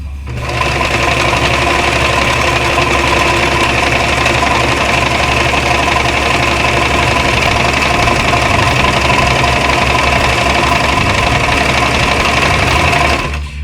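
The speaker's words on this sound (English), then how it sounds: "sew it down using a straight stitch" A sewing machine runs a continuous straight stitch through a Harbor Freight wool blanket, a loud steady mechanical whir and rapid needle chatter that holds even from start to finish with no pauses.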